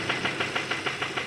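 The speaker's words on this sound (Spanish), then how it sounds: "Eso realmente es el motor que está sonando" A Kia 2.4 engine with a knocking fault, a rapid regular ticking knock repeating about six times a second over the steady hum of the running motor, fairly close.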